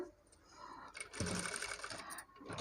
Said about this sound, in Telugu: చూడండి, ఎంత నెమ్మదిగా స్టిచ్ చేస్తున్నాను.